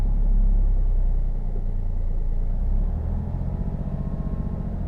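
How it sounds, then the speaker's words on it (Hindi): A car engine drones loud and close as it holds near 1500 rpm, a steady low rumble that drops slightly in level partway through and settles into an even throb, no talking. "ये देखो 2000 आरपीएम पे मेरी गाड़ी का इंजन नॉइस ऐसा करता है।"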